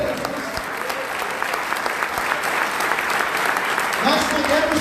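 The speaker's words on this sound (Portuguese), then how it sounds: "Aplauda Jesus." A church conference congregation applauds, dense continuous clapping filling the hall with a swell near the end, mixed with faint murmuring and a voice underneath.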